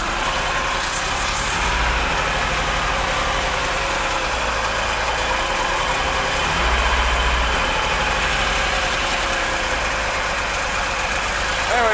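A Chaparral boat engine, running again after a starter replacement, holds a steady, continuous idle with a low rumble that stays near and even throughout.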